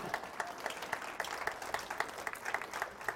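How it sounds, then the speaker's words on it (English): An audience claps through a live motivational talk, brisk even applause from a modest crowd, fairly faint and continuous for a few seconds. "You can clap on that one."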